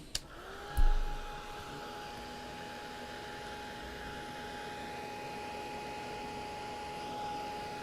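A hair dryer blows on a painted hot chocolate cup craft project, switching on with a click and then running as a steady, close whir for several seconds with no talking.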